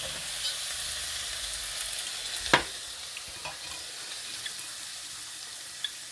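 Vegetables sizzle and hiss steadily in a hot pan after chicken stock goes in, with a soft clink of stirring partway through and faint scrapes over the constant frying noise.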